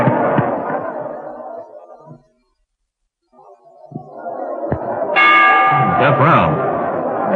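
Boxing bell clanging in a radio drama fight scene, a ringing metallic tone rising out of a noisy cheering crowd after a brief silence, with people shouting around it.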